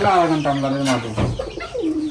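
Pigeons and other fowl call at a pigeon farm with color-matched breeds kept in pairs, nearby coos and clucking sounds mixed with people talking.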